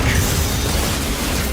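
Big Bang Attack energy blast from a Death Battle animation, a loud continuous roaring explosion with heavy low rumble, brief and close.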